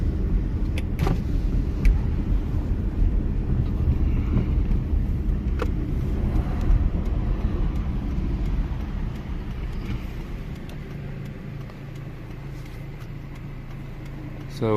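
Steady low road rumble of a car driving with the window rolled down, broadband wind buffeting throughout, easing slightly toward the end; close and continuous with no talk.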